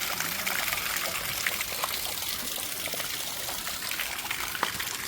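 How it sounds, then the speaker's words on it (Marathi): Water flowing steadily in a stream in Sanjay Gandhi National Park, Borivali, a continuous soft trickling and gushing close by, heard alone with no talk. "आणि हा पाण्याचा आवाज अजूनही सुंदर"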